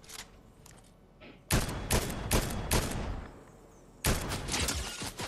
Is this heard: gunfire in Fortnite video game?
yes